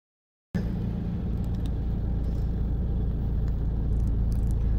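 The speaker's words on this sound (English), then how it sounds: "And the traffic is amazing." Road traffic on Marginal Street in Chelsea rumbles steadily after a brief silence, a loud, close, continuous wash of car engines and tire noise with no pauses.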